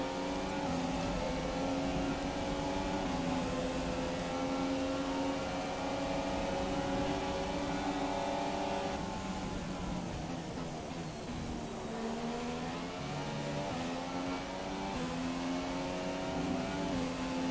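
McLaren Honda Formula 1 car engine in the F1 2017 racing game, a loud continuous high-pitched engine whine that rises and falls through gear changes, with no talk.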